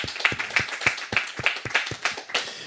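Audience applause after a talk on spirituality and addiction, a run of sharp, evenly spaced hand claps with a bright ringing accent on each, steady and fairly close for the whole stretch.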